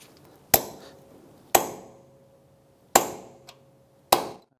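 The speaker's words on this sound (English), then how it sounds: "we can go ahead and punch in our lock here. I'm just going to use a punch or a drift pin." Four sharp metallic hammer strikes on a punch or drift pin, staking the CV axle nut lock on a 2007-2013 Acura MDX front axle, evenly spaced with ringing decay and no talk.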